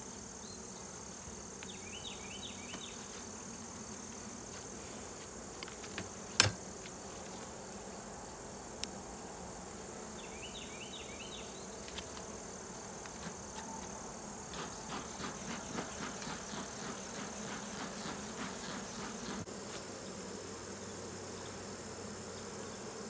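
Honey bees buzz around a swarm hive outdoors, a soft, continuous drone with individual bees passing close now and then and faint insect chirps in the background, no talking.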